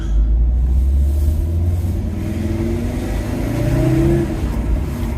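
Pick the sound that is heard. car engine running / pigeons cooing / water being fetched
car engine running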